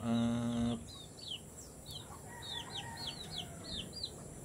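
Gamefowl chickens of early bird breeding stock on a backyard farm: one loud, drawn-out call opens, followed by a steady string of short, high chirping clucks at moderate distance, with no talking.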